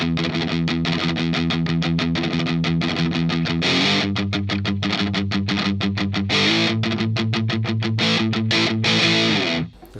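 Electric guitar played through a BOSS DS-1 distortion pedal, fuzzy distorted chords struck in quick rhythmic chugs with a couple of held notes, loud and close, ending abruptly.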